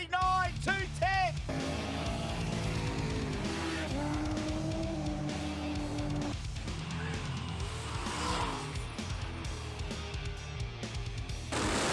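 A no-prep drag race car launches hard down the track at Warwick Dragway in Australia, its loud engine roaring and tires squealing as it pulls away, with crowd and announcer noise beneath.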